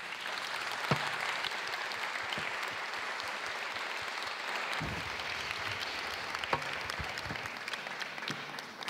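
Festival audience applauding round-table speakers, a steady, fairly distant wash of clapping that holds for several seconds with a few sharper claps standing out.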